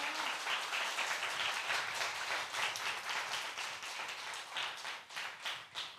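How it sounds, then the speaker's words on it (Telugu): A church congregation at a Sunday service claps hard in a brisk, steady rhythm, a loud and continuous wash of hand claps that carries through to the end without speech. "గట్టిగా చప్పట్లు కొట్టండి"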